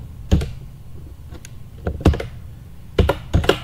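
Keys tapped on a computer keyboard while editing an SQL query, several short bursts of clacky keystrokes separated by quiet pauses, close and fairly crisp.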